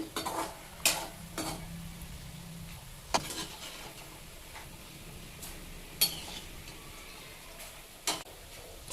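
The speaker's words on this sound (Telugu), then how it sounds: "ఎండుమిర్చి ఈ మాత్రం వేగితే చాలు మరి నల్లగా కూడా వేగాల్సిన అవసరం లేదు" Dried red chillies fry quietly in a pan, with a low steady sizzle broken by a few sharp scraping stirs at irregular intervals; no one speaks.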